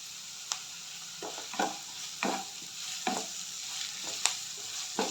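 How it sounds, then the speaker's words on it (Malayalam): Chopped curry leaves crackle and sizzle in hot oil for a chicken cutlet filling, a steady fry hiss broken by about seven sharp pops and spatters spaced through the clip, close and moderately loud, with no talk. "ഇനി ഇതിലേക്ക് നമുക്ക് നേരത്തെ അരിഞ്ഞു വെച്ചിട്ടുള്ള കറിവേപ്പില കുറച്ചിട്ട് കൊടുക്കാം"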